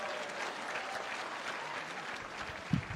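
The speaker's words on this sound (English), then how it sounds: "Can we clap for the good men who are here?" Steady applause from an audience at a World AIDS Day gathering at Kibabii University, a dense even wash of clapping lasting throughout, with a brief louder thump near the end.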